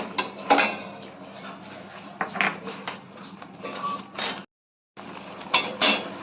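Ground spices frying for mutton keema chana masala, a spoon scraping and clinking against the pan in irregular bursts, close and moderately loud with a brief pause near the end.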